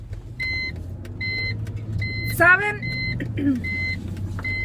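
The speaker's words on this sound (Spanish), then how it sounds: "Esa bulla, ese ruido es de supuestamente si va alguien sentado acá y no se ha puesto el cinturón." A car's seatbelt warning chime repeats in steady paired beeps over a low engine hum inside the cabin, with a person talking and a brief squeaky sweep partway through.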